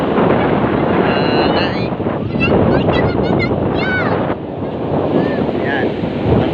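Strong wind buffets the microphone outdoors by the sea, a constant roaring rumble with surf behind it and a few faint bird calls, while a person speaks briefly.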